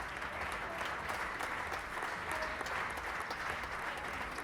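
An audience at a Porsche Mobil 1 Supercup award ceremony in Mexico applauds the honored drivers with a dense, sustained round of clapping at moderate distance.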